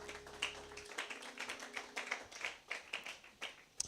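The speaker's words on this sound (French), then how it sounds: "Donnez-lui une main d'acclamation." Claps from a church congregation after a prayer, heard as faint, evenly spaced individual claps in a steady rhythm, roughly three per second, with a low hum dropping out early.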